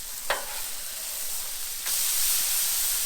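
Marinated carne asada steak sizzles on a hot griddle after being flipped, a steady close hiss of frying that jumps louder partway through.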